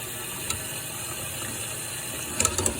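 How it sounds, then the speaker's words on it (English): Cold water runs steadily from a tap while something is mixed under it, a constant close hiss with a few faint clinks near the end. "I'm mixing it under cold water."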